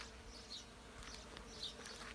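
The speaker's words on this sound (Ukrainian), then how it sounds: "Послухайте, як гудять бджоли." Bees buzz in a continuous soft drone among flowering plants in a morning flower garden, close and fairly faint, with no talking.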